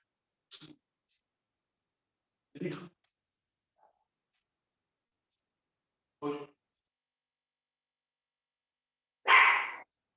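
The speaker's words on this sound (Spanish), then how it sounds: "José está atando el perro Bata que tiene." A dog being tied up gives four short, isolated barks spaced several seconds apart, faint and somewhat distant against near silence.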